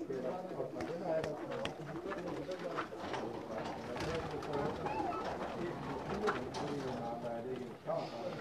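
Pigeons in a loft coo steadily and softly, with overlapping low throaty calls running throughout against a busy background, while people talk nearby.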